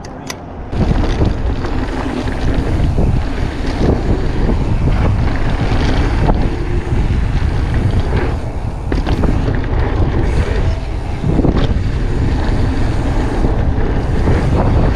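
Strong wind buffets the microphone steadily during a mountain bike ride, a loud continuous roar with gusty surges throughout and no talking.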